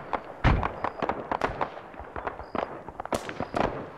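Rapid bursts of enemy gunfire in the Arma military shooter on Tanoa, sharp cracking shots in quick irregular volleys, loud and close, with no voices.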